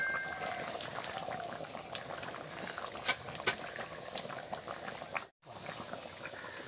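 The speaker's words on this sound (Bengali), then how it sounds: "তরকারিটা ফুটে গেছে, আমি এবারে মাছগুলোকে দিয়ে দেব" Fish curry with hog plum and taro simmers in a covered pot, giving a soft, steady bubbling hiss with a few sharp clicks and a brief cut-out near the end.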